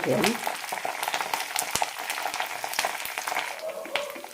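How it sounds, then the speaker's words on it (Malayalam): Curry leaves frying crisp in hot oil for a besan sev mixture, a steady close sizzle with sharp crackling pops scattered throughout. "കറിവേപ്പില നന്നായി മുരിഞ്ഞ്"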